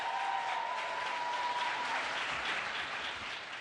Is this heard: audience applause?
yes